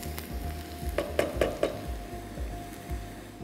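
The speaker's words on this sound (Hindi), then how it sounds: "इसमें हम अभी डालेंगे जिंजर गार्लिक पेस्ट." Ginger garlic paste frying in a pan with star anise and chilies for Eid rice, a steady soft sizzle with a few sharp crackles and spoon scrapes near the middle, close and moderately quiet.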